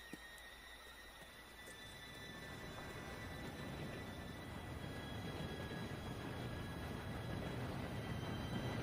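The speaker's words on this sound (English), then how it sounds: "Train should be here any minute." A train in the Red Dead Redemption 2 video game approaches, a low rumbling roar that swells steadily louder over several seconds with a faint high whine on top, no talking.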